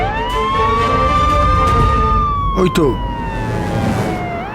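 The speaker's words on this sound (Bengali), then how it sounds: "পুলিশের গাড়ির আওয়াজ মনে হলো।" A police car siren wails loudly nearby in a steady rising and falling tone, with a short spoken remark cutting in partway through.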